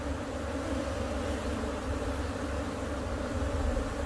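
Dense, continuous buzzing of many honeybees close by at an open hive, steady and fairly soft, with no voices.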